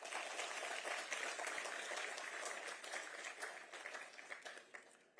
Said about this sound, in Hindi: एक जोर से ताली हो जाए